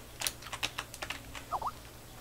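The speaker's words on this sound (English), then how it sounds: "he's typing in chat" Typing on a computer keyboard, a quick irregular run of close, crisp key clicks with short pauses, alone over a faint low hum.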